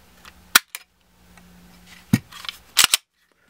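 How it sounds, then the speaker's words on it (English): Short dry clicks and snaps as a pistol trigger is pulled against a Lyman trigger gauge, a few close mechanical clicks spread over a few seconds with a faint hum between them. "We're going to check our trigger pull with our Lyman trigger gauge."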